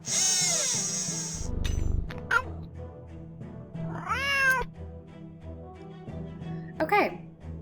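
Cat in a video game meowing in several drawn-out, wavering cries spaced a few seconds apart, over a quiet music bed with a faint voice.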